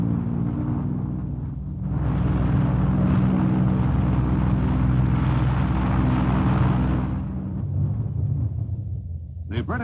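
Military aircraft taxiing out and taking off: a droning propeller engine with steady low tonal hum that swells into a louder, rougher roar for several seconds, then fades back to a lower drone, with a brief faint voice near the end.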